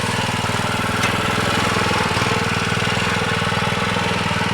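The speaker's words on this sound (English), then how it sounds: "our rototiller needed a new motor" A rototiller fitted with a newly replaced motor runs in a vegetable garden bed, a loud, close, steady engine drone with a fast mechanical chug and no pauses.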